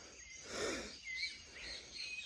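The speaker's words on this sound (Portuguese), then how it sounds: "Olha o canto dos pássaros." Birds sing and chirp in short, bright phrases, fairly faint against a quiet background, with no talking.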